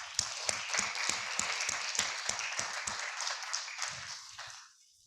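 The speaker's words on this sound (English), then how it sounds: "May we have a round of applause" Audience applause at a Spring 2021 academic program awards ceremony: a steady wash of clapping from many hands, fairly close and full, which thins out and fades away after about four seconds.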